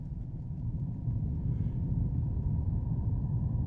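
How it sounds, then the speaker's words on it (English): Tapping on a Shure SM58 microphone run through an effect produces a dense, continuous low rumble that swells slightly and holds steady, close and murky with no voices. "I'm just tapping the microphone and creating that low rumble."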